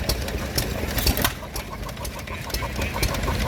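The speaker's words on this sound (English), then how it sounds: "An absolutely lovely engine indeed, driving a Lister water pump" A Manco 2 1/4 open-crank hit-and-miss stationary engine driving a Lister water pump chugs with irregular thumps and clatter close by, with birds chirping in the background at an outdoor show.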